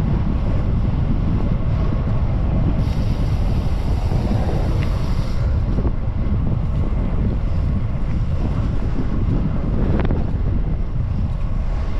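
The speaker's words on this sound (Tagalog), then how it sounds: "Mahangin pa." Strong, steady wind buffets the microphone of a rider on a road bike throughout, a dense low roar with faint water and boat noise underneath.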